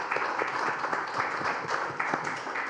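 An audience at a symposium panel on Canada's affordability crisis claps for the panelists, producing a sustained, moderately quiet patter of many hands with scattered sharper claps standing out.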